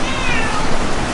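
A single drawn-out meow from a feral cat, fairly loud and close, with no talking.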